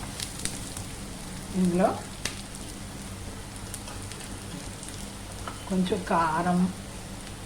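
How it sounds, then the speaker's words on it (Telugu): Onions fry in a pan with a steady crackling sizzle throughout, while someone speaks briefly twice over the cooking noise. "ఉల్లిపాయలు కూడా బాగా ఫ్రై అయిపోవాలి. చూడండి, ఉల్లిపాయలు బాగా ఫ్రై అయిపోయి కదా"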